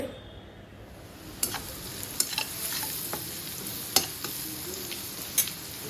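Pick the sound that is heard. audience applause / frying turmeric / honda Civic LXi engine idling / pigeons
frying turmeric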